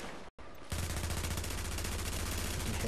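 Rapid automatic gunfire in The Division, aimed at a sniper, with quick evenly spaced shots that start hard after a brief silent gap and keep up loud and continuous.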